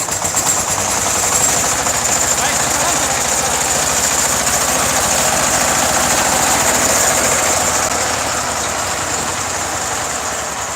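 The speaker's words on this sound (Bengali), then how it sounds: "স্টার্ট দিয়ে দেখাচ্ছি পাওয়ার টিলার" A second-hand 28-plough power tiller engine runs at a steady idle with an even, loud diesel chug and a rattling vibration that holds for the whole stretch, with faint voices in the background.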